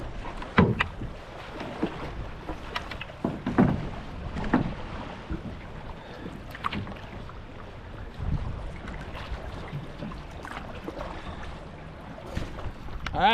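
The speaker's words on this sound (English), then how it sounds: "So I'm gonna paddle for a bit" Canoe paddled down the DuPage River in April, with soft, irregular paddle strokes and water splashes under steady wind noise, fairly close and moderate in level.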